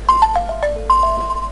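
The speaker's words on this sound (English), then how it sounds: "Shut up, phone." A phone ringtone plays a short, clear melodic run of descending tones and then starts again, close and alone with no talk.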